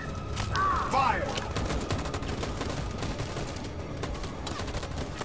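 Video game gunfire from Detroit: Become Human, a dense burst of overlapping shots and rapid automatic fire, loud and continuous with a brief electronic whine early on.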